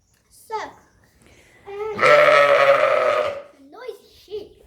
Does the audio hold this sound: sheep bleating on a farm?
yes